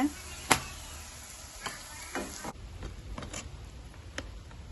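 Bread frying in oil in a pan for a homemade breakfast, giving a steady, moderately quiet sizzle with a few sharp crackles and light clicks scattered through it.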